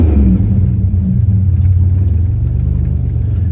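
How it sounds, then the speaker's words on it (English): Buick Grand National with its exhaust cutout open under turbo boost, a loud, deep engine rumble holding steady with a slight swell in intensity, close by and with no voices. "I opened the cutout and I can hear the boost"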